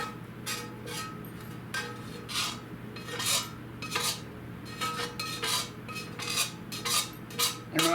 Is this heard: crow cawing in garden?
no